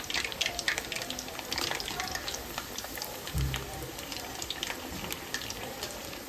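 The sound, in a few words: baati dough balls frying in oil until crispy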